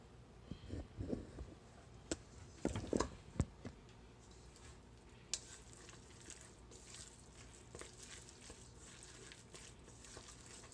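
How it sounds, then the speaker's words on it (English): Chopsticks stir a pork and Napa cabbage dumpling filling in a bowl, giving soft wet squishes and a few sharper clicks in quiet, intermittent bursts, faint and close. "now I'm just gonna mix it in again with my chopsticks"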